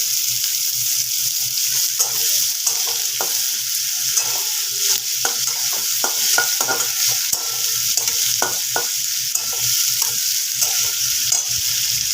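Chopped onion frying for a thin Bengali chicken curry, under a steady loud sizzle, with a spatula repeatedly scraping and clattering against the pan in irregular bursts; no one speaks.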